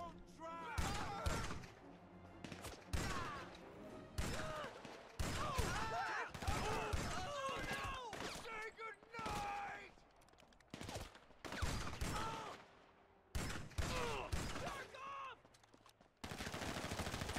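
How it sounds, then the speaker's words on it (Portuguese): Heavy gunfire from many shooters in GTA 5, dense overlapping bursts and shots near and far, with someone talking in between. "Olha isso, quanta gente atirando."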